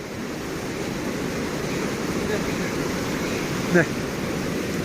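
Rushing water with a steady broadband hiss and roar, continuous and fairly close, with a person speaking faintly in the background.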